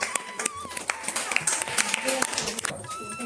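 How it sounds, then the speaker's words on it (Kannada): Several people clap by hand at a Ganapati temple, irregular sharp claps mixed with talking voices nearby. "ಬನ್ನಿ ಚಪ್ಪಾಳೆ ಕೊಟ್ಟು"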